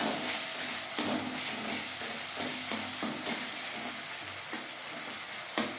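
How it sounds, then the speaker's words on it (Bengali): Tomatoes are mashed and stirred in a pan of chicken curry over a low gas flame, giving a continuous soft sizzle broken by a few scraping, knocking strokes of the spatula, close up and without any talk. "এইভাবে একটু টমেটো ম্যাশ করে দেবো।"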